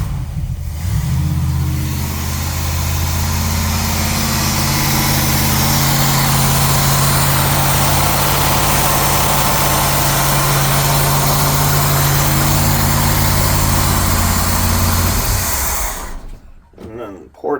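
The starboard inboard engine of a 1978 Tollycraft 37 Sedan Sportfisher idles loud and close with a steady, rumbling drone for about sixteen seconds, then cuts off, leaving a brief quiet tail.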